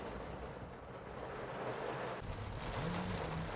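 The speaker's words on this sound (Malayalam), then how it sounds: "അടിപൊളി മഴ, കരഞ്ഞതിന് ഇരട്ടിയായിട്ട് മഴ." Heavy rain pours steadily as a dense broadband hiss, loud and continuous with no break, and a faint low tonal sound rises briefly near the end.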